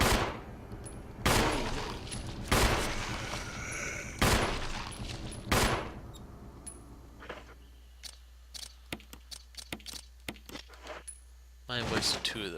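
Gunshots in the Resident Evil HD video game, Jill's campaign: four loud, sharp blasts spaced a second or so apart ring out and decay, followed by quieter scattered clicks and ambient game sounds, then another burst at the end.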